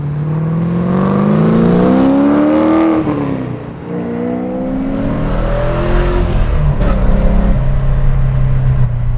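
An LS V8-swapped BMW E36 M3 accelerates hard with a rising engine roar, backs off briefly, then pulls again with a rough, throaty rumble and crackly texture on lift-off, loud and close.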